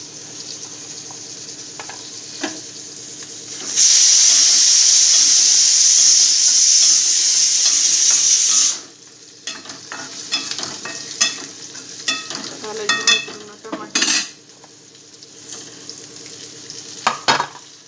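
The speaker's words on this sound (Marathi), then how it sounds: "शेंगदाणे चांगली भाजून घ्यायची" Peanuts dry-roasting and being stirred in a pan for upma, with a loud, steady hiss between about 4 and 9 seconds, then quieter scraping and clinking of the spoon against the pan.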